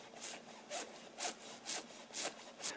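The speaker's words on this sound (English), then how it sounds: "I made a line on either side here, and then I'm just cutting away with the blade" Blade cutting a bevel into seat padding on a DIY ottoman, six quiet rhythmic rasping strokes at an even back-and-forth pace, close and alone.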